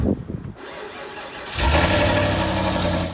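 A V8 engine in a Volvo V70, run through the rear exhaust section from a T6 V70, cranks briefly after a short pause and catches into a steady, fairly quiet idle nearby.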